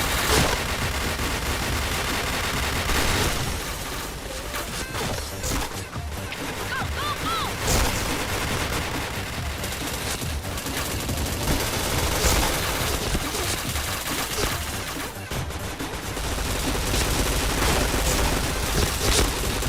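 Video game gunfire rattles out in bursts and single shots, loud and dense, with crashes and booms mixed into the battle noise across the whole stretch and faint voices now and then underneath.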